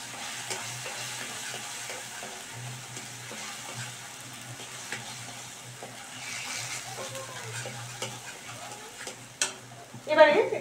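Two spoons of sour curd stirred into a mustard pumpkin curry in a pan over a low flame, with a soft continuous sizzle and gentle scraping, ending in a louder clatter.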